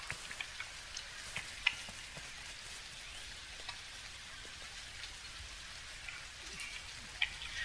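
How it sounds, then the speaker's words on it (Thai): Rain falling in the video game Dinkum, a steady, quiet patter of drops with a few brighter ticks scattered throughout. "แต่โชคดีวันนี้ฝนตก"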